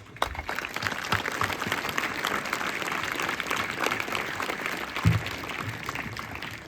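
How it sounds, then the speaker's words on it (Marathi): An audience at a school event applauds, a sustained wash of many hands clapping at a moderate distance, steady for the whole stretch with a brief louder bump near the end. "आपण सर्वांनी माझ्यासह सगळ्यांनी एकदा मनपूर्वक मनापासून त्यांच्यासाठी टाळ्या वाजूया"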